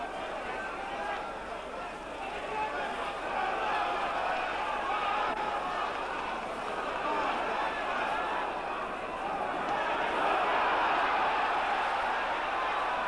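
A Wembley crowd at a heavyweight boxing match between Joe Bugner and Jack Bodell keeps up a constant loud, roaring cheer that swells near the end, with a commentator's voice likely under it.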